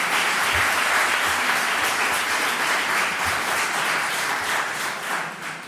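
Sustained applause from an audience at a book presentation in Spain, a dense and steady wash of clapping that stays strong throughout and eases slightly toward the end.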